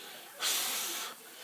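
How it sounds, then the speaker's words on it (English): Steam from a boiling kettle in a small home kitchen gives a brief, close, steady hiss lasting under a second. "I've already had the kettle boiling."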